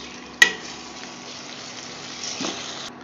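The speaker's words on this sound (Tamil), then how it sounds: "தக்காளி நல்லா மசிய வதக்கிடலாம்." Onions, tomatoes and ginger garlic paste sautéing in a pan for egg curry, a soft steady sizzle with a sharp clatter near the start and a brief stirring scrape later.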